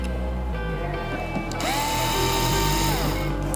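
A power screwdriver backs screws out of the cover on a DJI Agras T100 agricultural drone, its close, steady whir rising in pitch midway with ratcheting clicks and short pauses between bursts.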